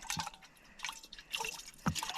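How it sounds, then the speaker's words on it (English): Water is poured into a camping cup in the woods in several short splashy bursts with brief pauses between them, fairly quiet and close. "So let's get my water in here."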